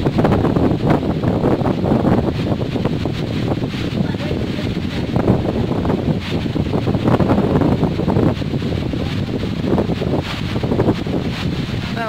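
Strong wind on Camotes Island buffets the microphone in a loud, continuous roar with gusty surges, steady for the whole stretch and no voices present.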